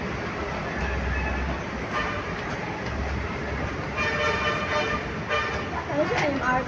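An LRT train rumbles and clatters steadily nearby, its continuous rail noise swelling slightly at times while people chatter excitedly over it.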